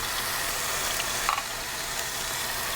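A steady, hissing sizzle of pork frying in a hot pan, continuous and fairly soft, with a faint clink partway through.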